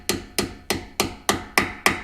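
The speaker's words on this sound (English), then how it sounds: "be careful when you're hammering these pins in" Seven evenly spaced metallic hammer strikes drive brake caliper pins into a painted C7 Corvette caliper, each a sharp close tap with a short ring, steady and unhurried with no talk.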